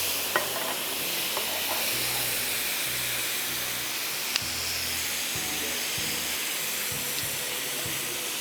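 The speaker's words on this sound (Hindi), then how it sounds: "अच्छी तरह फ्राई होने दें ताकि हमारे चिकन ब्रेस्ट गल जाएं।" Chicken breast fries in a pan with a continuous hissing sizzle, steady and close, broken by occasional light clinks and stirring scrapes; no talking.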